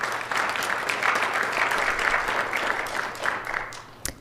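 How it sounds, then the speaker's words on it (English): Applause at a city council meeting, a steady round of clapping from a modest crowd lasting several seconds, with a sharp knock just before it fades. "They deserve a great round of applause for their efforts."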